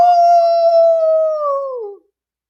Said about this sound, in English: Then Buddy starts to howl.